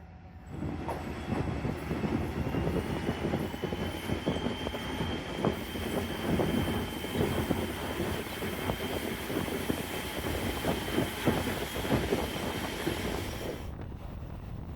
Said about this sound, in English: listen to these engines roar.